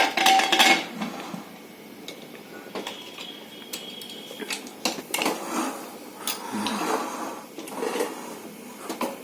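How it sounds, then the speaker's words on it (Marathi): A pressure cooker lid is fitted onto a pot of wheat-dal varan on a gas stove, giving a string of close metallic clinks, scrapes and knocks of varying loudness, with no talking. "आता मी झाकण लावते कुकरला"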